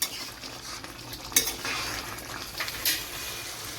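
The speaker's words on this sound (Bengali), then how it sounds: "এবার আমি আঁচটা বাড়িয়ে আমি এটা ভালো করে এবার একটু কষাবো।" Chicken curry, Bihari style, stirred and fried in a pan over high heat: a steady sizzle runs throughout, with a spoon scraping and clinking against the pan, including a couple of sharper knocks near the middle and end, and no talking.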